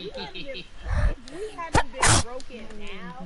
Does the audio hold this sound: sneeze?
yes